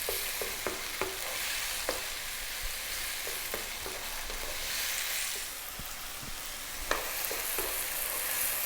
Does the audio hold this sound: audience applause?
no